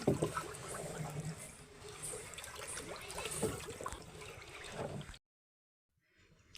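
Water trickles and swirls steadily in a barrel as a bag of DAP fertilizer dissolves, at close range for several seconds, then stops abruptly into near silence.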